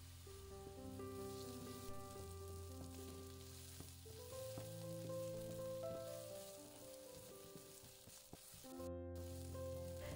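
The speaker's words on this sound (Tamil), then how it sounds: "நீங்களும் வெங்காயம் நல்லா எண்ணெயில் வணங்கி வர மாதிரி வணக்கி விட்டுக்கோங்க" Onions sautéing in oil for a Tamil-style chicken gravy, giving a soft, steady sizzle throughout that sits beneath louder melodic background music, with no talking.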